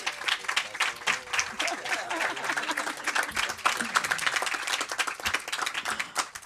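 An audience at a film panel at Casa de México claps warmly for a guest, a dense, close burst of many hands with scattered voices mixed in, holding steady throughout.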